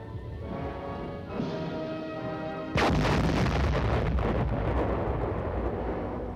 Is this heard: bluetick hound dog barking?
no